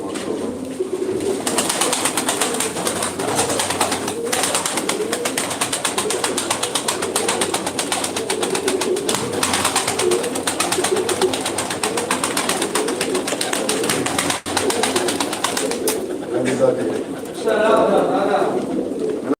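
Breeding pigeons cooing steadily for the length of the clip, a dense layered chorus of soft birdsong with occasional wingbeats, while someone talks over them close by.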